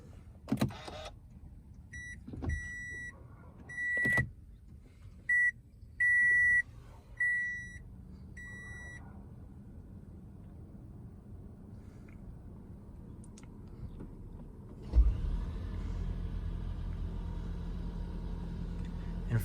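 Starting a 2013 Toyota Camry Hybrid XLE with its push button brings a few clicks, then a series of short electronic chimes. Several quiet seconds follow before a soft thump and a low, steady hum as the car powers up, all heard inside the cabin.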